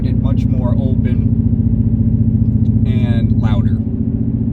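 A 2019 Mustang GT V8 with a JLT cold air intake and tune idles with a loud, steady, throbbing rumble close by while someone talks over it.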